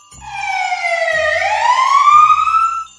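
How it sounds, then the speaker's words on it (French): A loud wailing alarm siren in a sorting centre sweeps down and then back up in pitch, sustained without pause, with faint low rumbles pulsing underneath. "la sirène d'alarme se déclenche soudainement"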